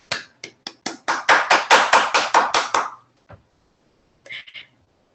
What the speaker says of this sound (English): let's give a round of applause to Mr. Randy Allen for his note in the Champion Tree Program